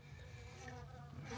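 Honey bees cluster tightly inside a strong hive at the start of the season. Their dense, continuous buzzing hum is close and steady, with no voices over it.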